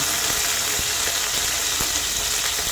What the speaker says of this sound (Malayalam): വെളിച്ചെണ്ണ നല്ലപോലെ ചൂടായി അതിലേക്ക് ഞാൻ കറിവേപ്പില ഇട്ട് കൊടുക്കാം